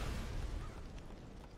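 An explosion in the Bullet Witch video game, a loud dull boom at the start that decays into a rumbling tail over under two seconds, with no talking.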